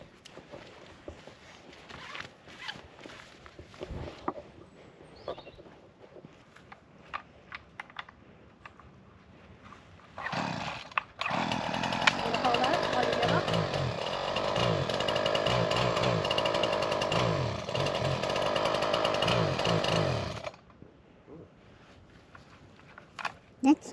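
A power hedge trimmer runs for about ten seconds mid-clip, loud and continuous, while trimming a hedge; quieter rustling, footsteps and scattered talk come before and after.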